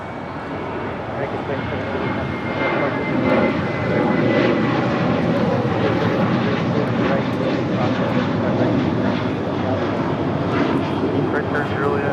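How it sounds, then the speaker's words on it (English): An American Airlines Boeing 737-800 departs Los Angeles International Airport, its engines roaring loud and steady throughout with broadband rumble, while faint radio chatter sits underneath. "Next departure, American Airlines flight 2780, heading to Austin, Texas, a 737-800"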